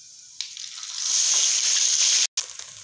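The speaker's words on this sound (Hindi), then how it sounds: "और अब हम लोगों ने इसके अंदर जो प्याज हमने चॉप करके रखे हैं वो ऐड कर देती हूँ।" Chopped onions hit hot oil in a wok for a spicy fish curry, giving a steady, loud sizzle that swells after a quick clatter, then breaks off abruptly for a moment before the frying hiss resumes.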